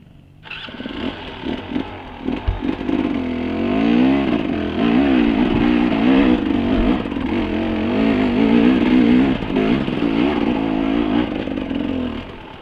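A motorcycle engine revs loudly and steadily up close, rising and wavering in pitch for several seconds.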